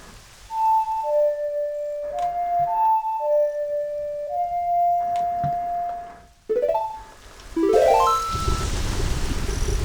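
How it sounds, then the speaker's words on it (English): In The Legend of Zelda: Ocarina of Time, a short ocarina melody plays in clear tonal notes, then a swelling hiss of game rain begins, steady to the end. "We've now made it rain somehow in the mountain."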